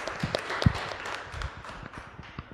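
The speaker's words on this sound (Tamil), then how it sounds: "சரியான விடை, கைத்தட்டுங்க." Applause from an audience at a Catholic church choir music quiz contest: a short, moderately loud burst of scattered clapping with a few sharper claps standing out, no voices.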